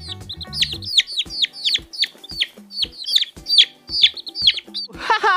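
Repeated bright chirping clucks of a toy rainbow-colored chicken sound in quick succession, loud and close, over a short tune at the start and ending in a scratchy burst.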